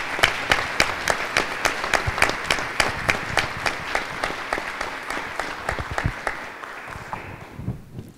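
Audience applause for three Teachers of the Year at a school board meeting, sustained clapping from a room of people that carries steadily and then tapers off near the end.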